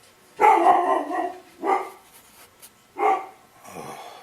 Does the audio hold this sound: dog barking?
yes